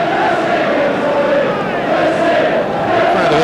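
A packed football stadium crowd of over 60,000 at a Celtic v Liverpool match roars in a dense, continuous wash of cheering and chanting, loud and sustained throughout.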